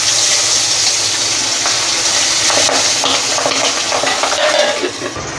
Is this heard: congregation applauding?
no